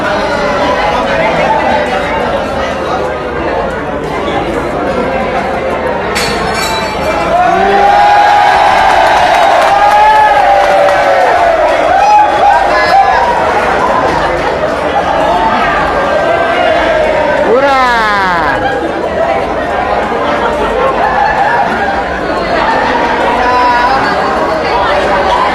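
A large crowd of spectators at the Mandalika event cheers and chatters loudly and steadily, with whoops and shouts rising in swells over a continuous roar of voices.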